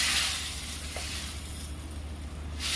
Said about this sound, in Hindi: पैन को मैं बड़े गैस पर कर रही हूँ। अब तड़का लगाऊंगी।